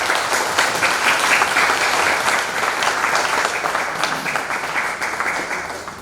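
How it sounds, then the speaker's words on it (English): Audience at a New York stroke symposium and dinner breaks into a big round of applause, dense and loud, sustained for several seconds before tapering slightly at the end. "Give them a big round of applause."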